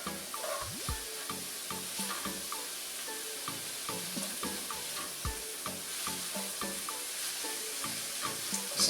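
Thin-sliced kielbasa sausage sizzles steadily in a pan, with repeated stirring scrapes and clicks of a utensil throughout, close and moderately loud with no talking.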